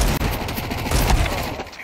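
Rapid gunfire from a Counter-Strike 2 match at a PGL CS2 RMR EU tournament, with dense overlapping shots in continuous loud bursts that fill the whole stretch.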